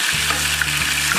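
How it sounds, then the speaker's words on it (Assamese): Fish fries in a pan for an Assamese fish curry, giving a loud, steady sizzle and crackle close by with no voices. "মাছখিনি খুব কাঢ়াকৈ ফ্ৰাই কৰিব নালাগে"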